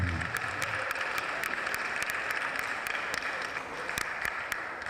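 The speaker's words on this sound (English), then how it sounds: "So big round of applause for the Three Kings School for the Blind" Sustained audience applause and clapping at a youth goalball tournament in Accra, a steady wash of many hands filling the space, with scattered louder claps and no talking.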